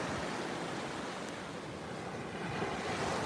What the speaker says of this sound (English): I love the wild waves breaking on the rocks